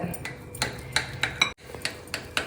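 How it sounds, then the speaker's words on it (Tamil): A knife cuts a block of paneer into cubes on a board, producing a series of crisp, evenly spaced taps close by, about a dozen knocks with a brief pause midway. "இப்போ பன்னீர் கட் பண்ண போகிறேன்"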